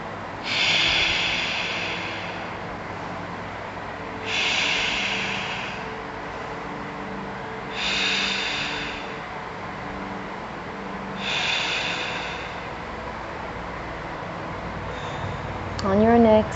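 Heavy, rhythmic breaths during an evening yoga flow, four long exhales spaced about every three to four seconds against a low ambient hum, with a brief voice near the end.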